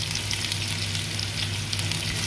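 Onion frying in a pan for squid curry, a dense, even sizzle with a low background hum, close and continuous without any voices.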